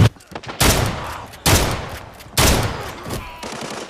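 Shotgun fire in a video game: three loud, heavy blasts spaced about a second apart, each with a booming decay, close and dominant over faint game ambience.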